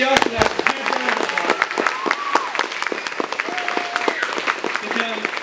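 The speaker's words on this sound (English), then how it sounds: "So everybody give the Oxendines a huge round of" Audience at a talent show clapping in a room, many sharp distinct claps over a steady bed of applause, with cheering and voices mixed in nearby.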